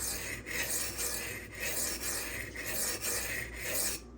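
Custom Knife Factory Evo 3.0 knife blade drawn across a sharpening stone, a steady run of rasping strokes roughly every half second, close and even, with no voices.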